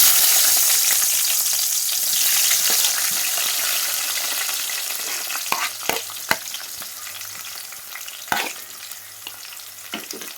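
Sliced onions frying in oil for a chicken gravy curry, a loud continuous sizzle that gradually softens, with scattered sharp knocks of a spoon against the pan near the end.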